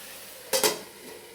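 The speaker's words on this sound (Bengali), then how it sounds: "মশলাটা কষানো হচ্ছে" Spice paste being fried in a covered pot for a water taro curry, with two quick metallic clinks of a utensil or lid against the pot over a faint steady sizzle.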